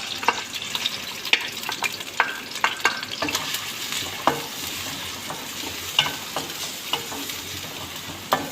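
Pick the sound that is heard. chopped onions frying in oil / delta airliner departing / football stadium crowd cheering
chopped onions frying in oil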